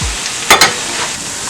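Plantain sizzles steadily in hot oil in a pan, with two quick scraping stirs partway through.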